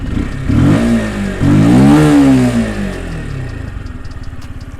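An RKS RNX 125 motorcycle with a small stock exhaust revs close by, two rising throttle blips climbing and falling back before settling to a steady, slightly rattly idle.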